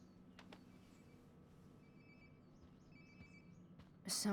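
A phone rings nearby in the video game Life is Strange: Before the Storm: a faint electronic ringtone repeats its short warbling tones over quiet room ambience. A louder abrupt noise cuts in at the very end.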